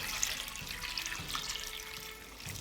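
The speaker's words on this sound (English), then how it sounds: "And then pour in your broth mixture," Broth mixture poured into a slow cooker while making Irish stew, a steady close liquid pour with splashing trickle lasting throughout, no voices.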